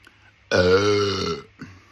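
A single loud, drawn-out burp lasting about a second, close to the microphone, followed by a short faint sound.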